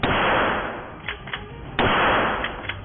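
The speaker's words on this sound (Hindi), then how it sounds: "दुकान के एक दूसरे हिस्से में बनी शूटिंग रेंज में ही वो गोलियां दागते नजर आए।" Gunfire at an indoor shooting range inside a gun shop: two loud, sharp shots about two seconds apart, each followed by a long, roomy echo that fades slowly between them.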